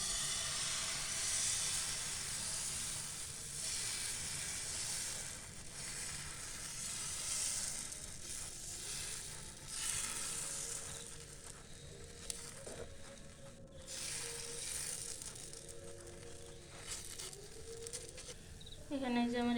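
Coconut fritters made with tender young coconut fry in hot oil, giving a steady, even sizzle and hiss that lasts throughout. A voice talks softly over the frying.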